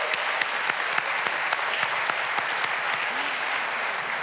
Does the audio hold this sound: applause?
yes